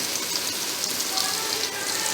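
Mixed vegetables drop into a hot pan for sautéing, giving a steady, dense sizzle like rain on a surface that holds evenly close by for a couple of seconds.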